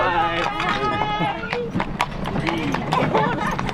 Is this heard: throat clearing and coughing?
no